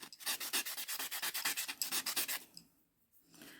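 A hand file works over acrylic nails in quick, rhythmic back-and-forth strokes, close and scratchy, about a dozen even passes before stopping into near quiet.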